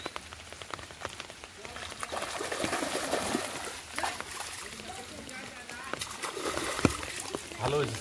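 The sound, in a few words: washing fish in water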